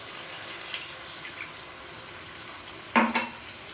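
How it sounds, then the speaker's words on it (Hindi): Oil sizzles steadily under fried chicken in a pot, then one cup of water hits the hot pan in a short, loud splashing hiss near the end. "तो अब मैं इसमें पानी डालूँगी 1 कप।"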